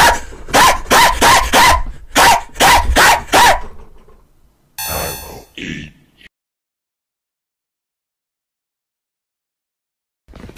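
A string of about eight loud, rapid barks from dogs close up, followed by a burst of electronic noise and a short clipped sound before the audio drops into silence.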